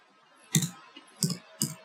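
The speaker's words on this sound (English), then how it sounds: "I'm going to go into the address bar and type about" Three separate bursts of computer keyboard typing, close and fairly quiet, spaced irregularly with near silence between them while an address is entered in a Firefox browser.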